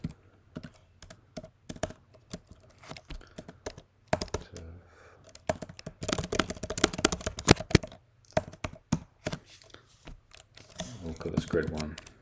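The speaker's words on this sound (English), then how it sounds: "So I'll type it up here first." Keyboard typing during a live coding session, with bursts of quick clicky keystrokes spread across the whole stretch, busier toward the middle and end, with a faint voice in the background.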